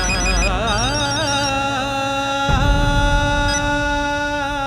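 An incoming call sets off a mobile phone ringtone, a continuous warbling electronic melody played loudly and close, holding steady for the whole stretch with no talk over it.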